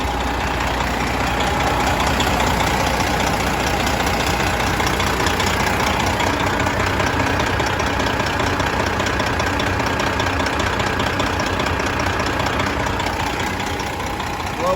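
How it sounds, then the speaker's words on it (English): A 2017 Peterbilt 389 flattop glider kit truck engine idles steadily up close, a dense continuous diesel rumble with a faint knocking texture and no gaps throughout. "Engine looks good, sounds good."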